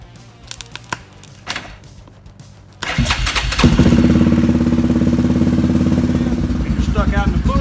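A Yamaha Grizzly ATV engine is jump-started with pliers across the starter, with a few faint clicks before it cranks and then catches into a loud, close, steady idle that carries on to the end.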